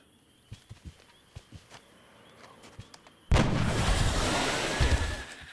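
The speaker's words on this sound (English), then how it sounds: "let's switch back to our sniper rifle. Maybe do a headshot." A sniper rifle shot from XCOM: Enemy Unknown bursts out loud and sudden, opening a sustained rumbling blast after a stretch of faint scattered ticks and thumps.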